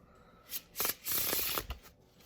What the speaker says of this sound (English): We'll do one more Pharaoh here, and then we'll do a couple of regular shuffles